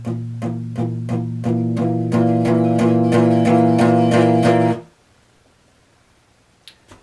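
Palm-muted electric guitar chugging chords in a steady rhythm, growing fuller and louder as the mute is released before cutting off, leaving near silence with a faint click.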